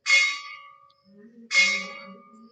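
A bell rings twice, about a second and a half apart. Each strike is a bright, close clang that decays quickly with a metallic hum.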